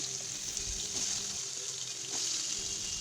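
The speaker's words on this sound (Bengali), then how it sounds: "কড়াইয়ে অল্প পরিমাণে জিরে ফোড়ন দেব।" Cumin seeds sizzle in a little hot oil in a wok for an aloo-phulkopi curry, a steady bright crackling hiss that holds close and even throughout, with no voices.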